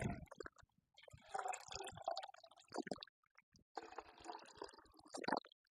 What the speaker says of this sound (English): We'll fill up that canteen cup.